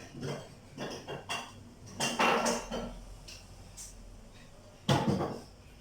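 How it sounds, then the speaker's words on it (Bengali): Carrot, capsicum, onion and green chilli being finely chopped, with irregular close knocks and taps of a knife on a board, some in quick bursts, others spaced apart. "এই সমস্ত ভেজিটেবলস গুলোকে আমি একদম ফাইনলি চপ করে নিচ্ছি"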